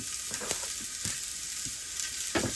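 Chopped onions sautéing in oil in a pan for mutton curry, giving a bright continuous sizzle with a few scraping stirs spaced through it, close and clear with no voices.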